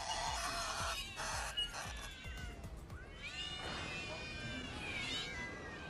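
Cats meow repeatedly in a French advertisement, their drawn-out calls layered over music and a speaking voice.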